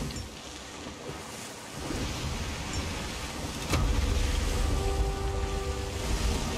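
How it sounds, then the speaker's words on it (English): Ocean waves roll and surge in a Sea of Thieves sea voyage, a steady broad wash of water and wind that swells louder partway through, with no talk over it. "The waves are gonna get real bouncy here."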